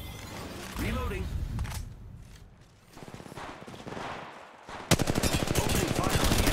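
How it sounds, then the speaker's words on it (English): Automatic weapon fire in Apex Legends Mobile during an intense squad fight, with rapid bursts that grow into a dense, sustained stream of shots near the end, mixed with game noise and voice callouts. "Opening fire on the enemy."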